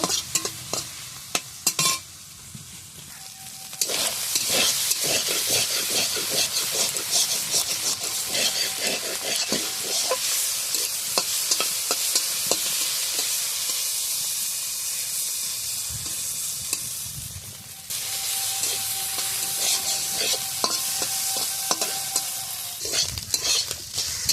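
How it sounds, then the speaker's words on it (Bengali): Shrimp sizzle loudly in hot oil with salt and turmeric in a Bangladeshi village kitchen while a utensil scrapes and stirs them in quick, repeated strokes. The frying hiss drops briefly at times between bursts of stirring. "এবার একটু নাড়াচাড়া দিয়ে ভালো করে ভেজে নেব"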